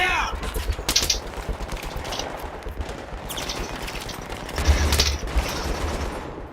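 Bursts of gunfire in the video game Battlefield 3, co-op mode, rattle in quick volleys with sharper cracks scattered through, mixed with game noise as players talk over it.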